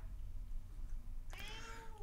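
A single drawn-out cat meow rises suddenly near the end, clear and close against a quiet, low background hum.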